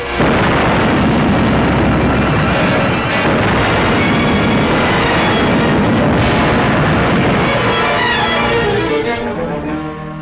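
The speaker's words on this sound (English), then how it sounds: "Manila was evacuated and bombed." Heavy bombing explosions roll over Manila in a 1942 wartime film, a dense, loud wall of booming blasts and rumble sustained without pause.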